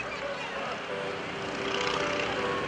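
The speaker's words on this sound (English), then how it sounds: "This man, John Mohr, is flying this airplane like nobody else in the world does." Open-cockpit biplane performing at the 2011 AirPower Over Hampton Roads air show: a loud, continuous propeller-engine drone that stays close and steady, rising slightly in strength toward the end.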